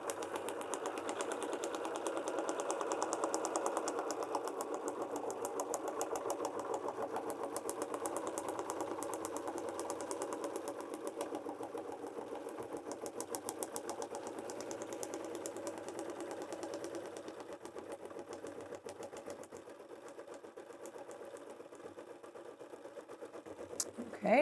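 An embroidery machine tacks down cuddle fabric with a steady, fast stitching whir that runs continuously and fairly loud. It eases slightly toward the end.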